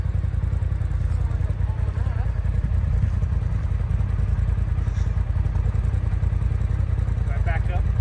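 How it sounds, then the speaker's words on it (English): A four-wheel-drive vehicle's engine revs hard and steady in low mid tones as it launches, a loud, continuous rumble close by with faint clatter on top, while people talk over it. "I just put it in 4-wheel drive and launch it."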